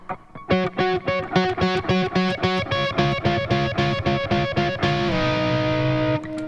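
A distorted electric guitar plays a choppy riff of quick repeated chords, then slides into a long ringing held note at the end.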